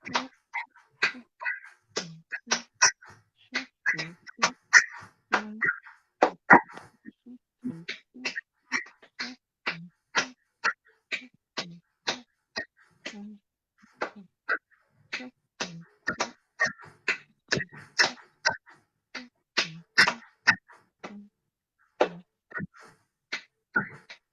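Tap shoes beat out quick shuffle steps during a virtual tap dance lesson: dense, crisp clicks in uneven bursts and flurries, close and fairly loud, running steadily for over twenty seconds with no talking.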